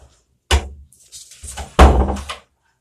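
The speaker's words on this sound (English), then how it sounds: "Push that door too if you don't mind." A door is pushed shut in a jail interview room, giving two heavy thuds with a brief rattle between them, close and loud, with no talking.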